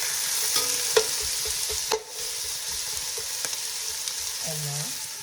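String beans and potatoes frying in a pan for a spicy Pakistani-style dish, a steady close sizzle with a few scraping stirs and clinks of the spoon against the pan.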